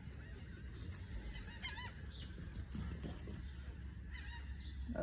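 Geese honk repeatedly outdoors while a dog chases them, loud overlapping calls coming in bursts with a brief flutter of wings, no voices over them.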